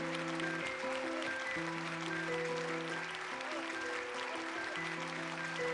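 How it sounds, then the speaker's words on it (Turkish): A stage audience claps to welcome Hakan Küçük, a steady, fairly faint wash of applause that runs the whole time beneath sustained musical tones. "alkışlarınızla Hakan Küçük'ü sahneye davet ediyorum"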